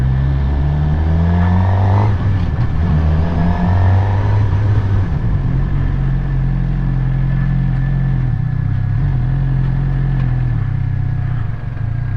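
A Suzuki GSX-R600 motorcycle pulls away from a second-gear stop, its engine note rising steadily and then holding a loud, continuous drone close by, with no talk.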